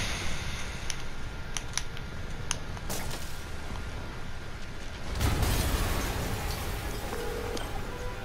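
Explosion in the Marvel's Spider-Man video game, a sudden broad burst around the five-second mark over steady game ambience, preceded by a few sharp clicks and bangs.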